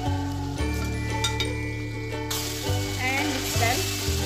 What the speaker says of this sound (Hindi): अब हम इसमें टमाटर और हरी मिर्च शामिल करेंगे